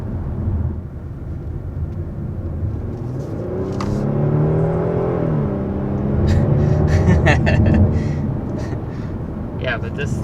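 A 2022 Kia Stinger GT2 sports sedan driving on a road gives a steady engine hum and tyre rumble that swells slightly mid-way, running at moderate loudness without sharp revving.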